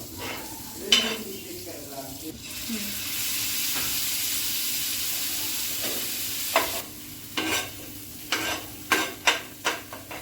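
Bhaji and pav fry in Amul butter on a hot pan, giving a continuous sizzling hiss with scraping and stirring; sharp spatula clinks against the pan come faster toward the end.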